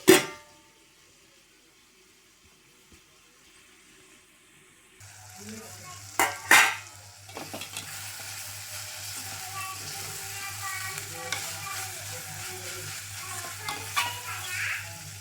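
Tomatoes fry in a pan for alchanthakaya curry, a steady close sizzle starting a few seconds in, with a few sharp scrapes of stirring and light clinks over the hiss; a low hum runs underneath.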